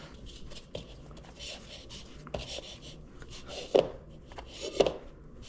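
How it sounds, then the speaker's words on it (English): Homemade egg noodle dough is kneaded by hand, giving soft muffled pressing and rubbing on a work surface, with two firmer thumps near the end as the dough is flipped and pushed down. "Just pressing it in the bottom and flipping. And I'll just knead it together."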